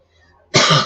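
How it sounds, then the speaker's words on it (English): A single sharp, close cough during a live stream, loud and abrupt after a quiet moment. "I always get a cough."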